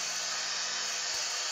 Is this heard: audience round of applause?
no